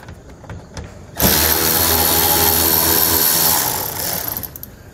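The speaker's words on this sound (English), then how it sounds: "there's another one right here we'll need to remove with our 7mm socket" A power tool with a 7mm socket whirs up abruptly and runs steadily for several seconds as it backs a fastener out of a panel beside the rear tire of a 2017 Chevrolet Cruze, loud and close before trailing off.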